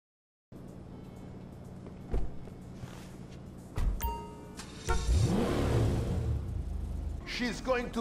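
A ZR380 car with ghost wheels in GTA5 Online idles and then revs up hard, with the engine rising sharply in pitch and staying loud and close while people talk over it.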